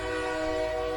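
A train at a railway station in an animated comic, heard as a steady, loud, drawn-out horn or whistle tone over a rumbling low background, with no speech.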